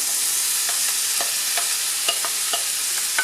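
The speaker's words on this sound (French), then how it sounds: "Là, je vais mettre tout de suite mes champignons." Mushrooms fry in a hot pan of deglazed juices for a filet mignon mushroom sauce, giving a steady close sizzle broken by several soft stirring scrapes, with no voices.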